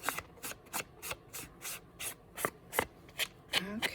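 Rhythmic rubbing strokes as gilded leafing is worked by hand onto a handmade card, about a dozen short, close brushing sweeps in a steady cadence with no talking.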